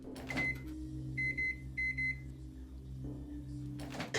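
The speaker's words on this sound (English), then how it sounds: "the supposedly haunted item begins beeping in a really strange pattern" An electronic device beeps in short high tones, a single beep and then quick paired beeps, over a steady low hum.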